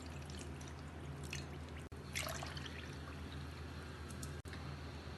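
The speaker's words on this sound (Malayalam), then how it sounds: "ഇതിലേക്ക് 2 കപ്പ് പാല് ചേർത്ത്" Milk poured from a cup into a bowl of cornflour gives a steady liquid splash and trickle, close and continuous over a low background hum, with no talking.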